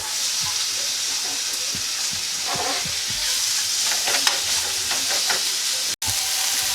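Peppers sizzling in a pan over lowered heat for chicken fajitas, a steady close frying hiss with faint scattered pops and stirring clinks throughout.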